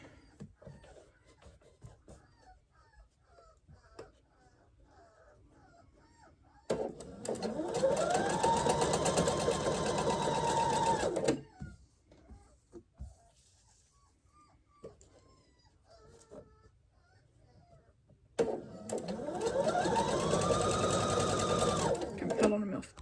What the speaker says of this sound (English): I'm going to go ahead and sew these since they're right here.